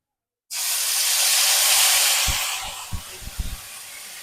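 Spice paste of cumin, mustard, cashew and poppy seed hits hot oil with a sudden loud, steady sizzling hiss that slowly fades, followed by a few soft knocks near the end.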